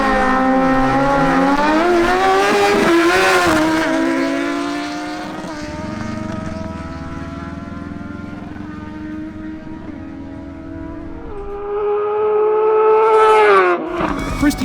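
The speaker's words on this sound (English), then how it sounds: "The next matchup is between Christian Alcala on his Suzuki GSX-S750 and Jamie Dorado on his Kawasaki Z1000SX" A Suzuki GSX-S750 and a Kawasaki Z1000SX motorcycle drag racing, with high-revving engines climbing through gear changes, loud at first, easing as they recede, then a sharp rising whine near the end.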